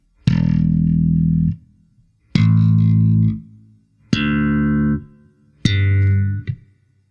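Four separate thumb strikes on guitar strings, each ringing out as a sustained, loud, close chord for about a second before being cut off, with short silent gaps between them.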